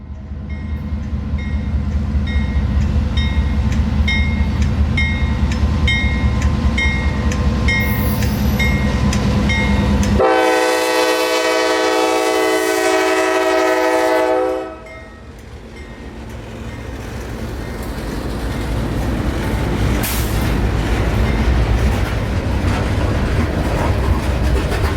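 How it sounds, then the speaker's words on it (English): A solo CSX CM40-8 locomotive, number 7811, hauls a phosphate and sulfur freight train past in Florida. Loud steady rumble and wheel noise, then a long blaring horn blast, followed by fading rolling cars. "The power on today's train would be a solo CSX"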